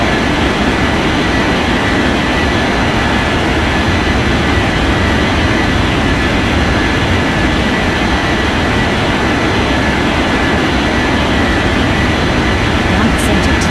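An airliner taking off from runway 14 right in the Unmatched Air Traffic Control video game: a loud, steady broadband jet roar that holds unbroken throughout, with radio-style talk heard along with it.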